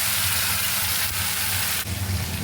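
Tomato, ginger and green chilli paste frying in a pan for a Bengali matar paneer, a steady close sizzle with a brief burst of stirring near the end and no talking.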